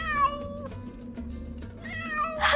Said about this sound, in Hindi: अरे मुझे बिल्ली की आवाज आ रही है।